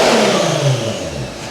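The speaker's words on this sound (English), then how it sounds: "Basically, yes, we've got nice turbo noises, but we've got a lot of smoke" Turbocharged car engine revs up and falls back, loud and close, in a continuous rising-and-falling roar while the engine is smoking heavily, no talk.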